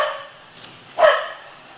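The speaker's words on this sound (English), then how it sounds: "the dog barking in the background" A dog in the background gives one sharp bark near the middle, preceded by a fainter yip, against an otherwise quiet garage-like setting where a Honda Shadow VLX motorcycle is being worked on.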